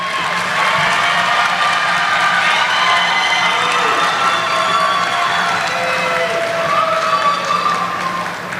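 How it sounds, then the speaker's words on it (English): Graduates at a 2020 university commencement at Albany State give a sustained round of applause and cheers for their families, a loud crowd roar holding steady throughout with scattered shouts. "will all graduates stand and provide a round of applause to the families"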